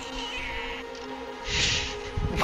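A cat meows right beside the microphone while being carried, a close, loud cry with a sharper outburst near the end.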